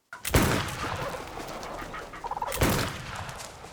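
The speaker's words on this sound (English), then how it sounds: "Turkeys!" Turkeys gobbling in a burst, a loud close cluster of calls near the start and another about two seconds later, set against an outdoor backdrop.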